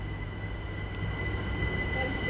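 A Class 387 electric train at Haywards Heath station in Britain gives a steady low rumble and mechanical drone with faint high whine, slowly building in loudness as it moves close by.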